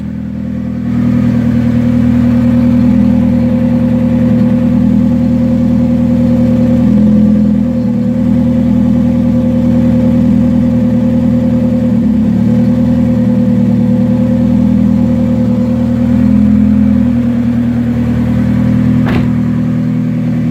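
A Hyundai Tiburon turbo engine runs steadily in first gear at about 5 mph with a constant mid-pitched drone and hum, close and loud, with slight variations in load throughout.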